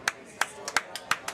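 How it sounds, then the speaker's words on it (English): Scattered, sharp hand claps from a curling crowd cheering a great shot, about six quick claps in an uneven rhythm, fairly close and with no voices over them. "the crowd's going wild back here"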